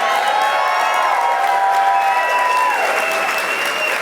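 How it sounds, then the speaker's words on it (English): An audience applauds a veteran at a ceremony with steady, dense clapping that fills the room from start to finish, with a few voices rising over it. "I want us all to applaud Mr. Dwork and his service to our nation."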